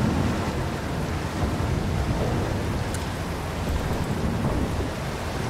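Loud, steady rushing of water floods a submarine in the video game Barotrauma, a dense continuous roar with low rumbling underneath and no breaks.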